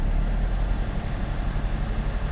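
A Mercedes W123 230E engine idling after a distributor repair, a low, steady rumble with a slight uneven shake, heard close and alone.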